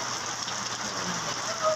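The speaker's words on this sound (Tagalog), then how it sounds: "Lakas ng ulan ngayon" Heavy rain pours down steadily under an overcast sky, a dense, continuous hiss of drops hitting surfaces close by, with no pauses.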